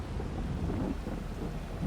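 Steady rain hiss fills a Farming Simulator farm scene, a continuous broadband wash with low rumbling undertones, evenly loud throughout and with no voices over it.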